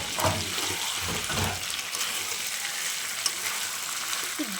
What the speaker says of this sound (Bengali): এবার আমি সেদ্ধ করা মটরশুঁটিটা দিয়ে দিচ্ছি। মা আলুটাও ছেড়ে দিয়েছে।